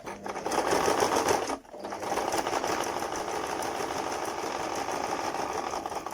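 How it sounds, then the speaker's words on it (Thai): A sewing machine stitches fabric for a homemade face shield, whirring steadily with a rapid mechanical chatter. It pauses briefly, then resumes at an even pace, close and loud. "เราเย็บทั้งสี่ด้านเลยนะคะ อันนี้เราก็เย็บเสร็จทั้งเสร็จทั้งสี่ด้านแล้วนะคะ"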